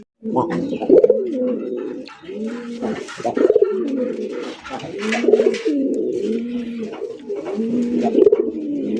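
Pigeons coo close by in repeated rolling, throaty calls, one after another in a steady rhythm, with faint clatter in the background.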